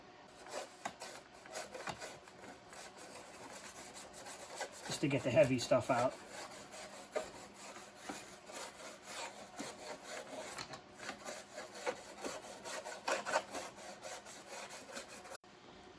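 A dry toothbrush scrubs briskly against a plastic door-panel speaker grille of a 1994-1996 Chevrolet Caprice in rapid rasping strokes, with a louder burst partway through and a brief spoken remark.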